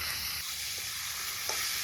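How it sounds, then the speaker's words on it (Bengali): Chicken pieces fry with spices in a pan, making a loud, continuous close-up sizzle with faint stirring scrapes and no talk. "ফোরনের উপরে চিকেন দিয়ে ভাজা ভাজা করে নিলাম"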